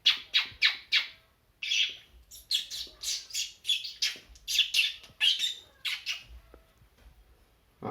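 A mimic's voice imitates a flock of birds at a Keralotsavam mimicry competition: a rapid, busy run of chirps, squawks and tweets in irregular bursts, loud and close, with no talking.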